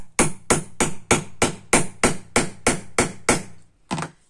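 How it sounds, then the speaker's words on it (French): A small hammer strikes an eyelet setter on a scrapbooking pouch, about eleven sharp, evenly spaced metallic blows in quick succession, close and loud, with no talking. "vous prenez votre petit marteau."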